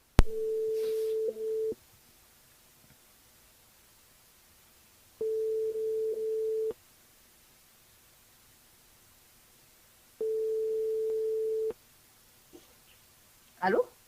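A telephone ringback tone sounds three times with long silent gaps while a radio game caller is being dialed, steady and moderately loud, followed by faint rustling and a brief click.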